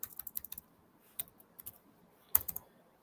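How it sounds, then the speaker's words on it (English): Typing on a computer keyboard: close, crisp key clicks in short irregular bursts with pauses between, ending in a louder flurry of strokes near the end, with no voices. "If I can actually decide to type today"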